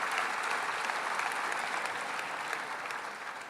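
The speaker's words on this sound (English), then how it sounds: "let's take one last round of applause for 100 years" Audience applause fills a centennial celebration at an award ceremony, steady and dense throughout, a large crowd clapping continuously without talk over it.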